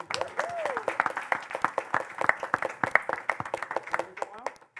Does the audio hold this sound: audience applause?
yes